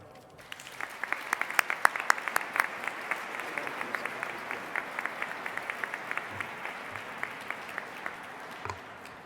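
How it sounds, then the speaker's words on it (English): Sustained audience applause for chairman Al Hunt at an award ceremony, a dense steady patter of many hands clapping that holds for several seconds before tapering, with no voices over it. "please join me in a round of applause for our loyal chairman"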